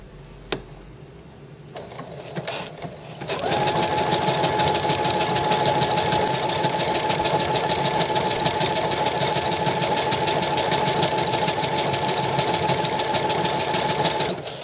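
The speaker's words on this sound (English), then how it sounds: "the needles will be going backwards and forwards as they do the decorative stitch" A sewing machine stitches a decorative pattern with a twin needle: after a few faint clicks it starts up and runs at a steady, fast mechanical rattle with a constant whine until the end, close and loud.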